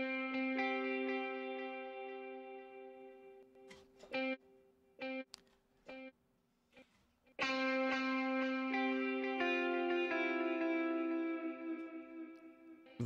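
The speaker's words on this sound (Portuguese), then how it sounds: "Vamos ligar só o delay." Clean electric guitar played through a delay effect with reverb switched off, sustained notes and chords ringing with repeating echoes, a brief choppy break of short picked notes midway before full ringing chords return.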